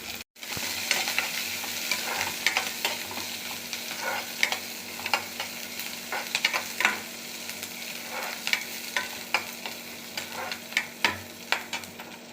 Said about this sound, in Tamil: சிறிதளவு எண்ணெய் ஊற்றிருக்கேன் கடுகு உளுந்தம் பருப்பு வெங்காயம் வெங்காயம் ரொம்ப வதக்கணுங்கிறது இல்லை லேசாக வதக்கினாலே போதும்